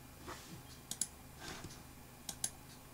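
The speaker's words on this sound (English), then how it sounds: "type K on the keyboard" A computer keyboard key is pressed during 3D CAD modelling work: two pairs of sharp, faint clicks about 1.4 seconds apart over a quiet room hum, with no talking.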